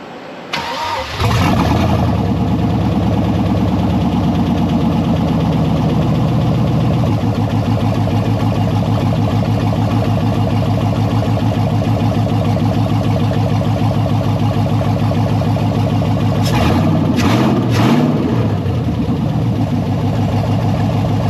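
An LS-swapped Jeep Cherokee cranks and fires, then settles into a steady, loud, close idle that rumbles evenly for the rest of the stretch, with a brief blip of revs near the end.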